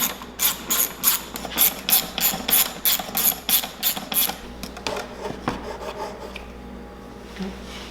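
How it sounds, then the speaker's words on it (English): Ratcheting wrench loosening the two 8mm bolts that hold the exhaust silencer on a 2021 Yamaha YZ125 dirt bike, a steady run of close, rasping clicks that slows and fades toward the end. "Looks like we got two 8mm bolts holding the silencer on. Just going to remove those and we should be able to slide it off."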